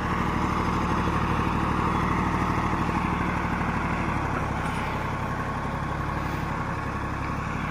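A Same Greaves 353 tractor, a 35 HP machine, hauls a 3 MB plough through a field, its engine a steady, loud, continuous drone throughout.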